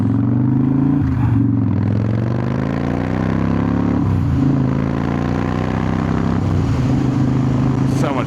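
A motorcycle fitted with a newly installed underdrive pulley accelerates hard through the gears, engine drone climbing in pitch, then dropping at each of several shifts, loud and close throughout.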